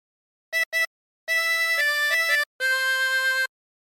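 A harmonica plays a short phrase from a song: two quick blown notes, a pause, then longer sustained reedy tones shifting pitch, close and clear with silence between phrases.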